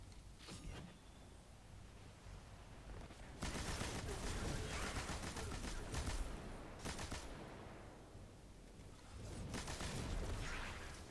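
Machine gun fire in the video game Destiny 2 comes as loud, dense bursts of automatic shots, the heaviest from about three and a half to seven seconds and again near the end, over steady game background noise.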